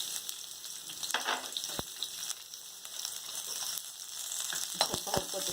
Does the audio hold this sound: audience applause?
no